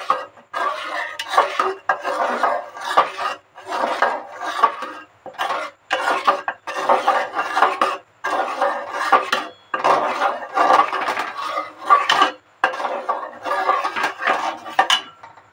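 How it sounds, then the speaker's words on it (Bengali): Mango being stirred into milk payesh in a pot, a spoon scraping and clinking against the metal in repeated bursts with short pauses, close and fairly loud with no voices. "দিয়ে ভালোভাবে এটাকে নেড়ে নেব।"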